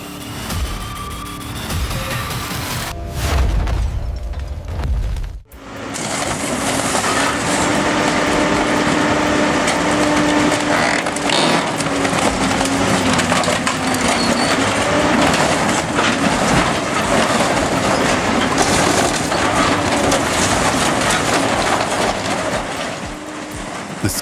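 An industrial shredder crushes steel panels with hydraulic jaws in a loud, continuous, close grinding and crunching roar. A brief clatter and a sudden break come first, then the grinding runs unbroken with no talk.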